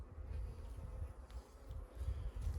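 Honeybees buzzing close by around an open hive, a low droning hum with fluctuating intensity as insects move around nearby.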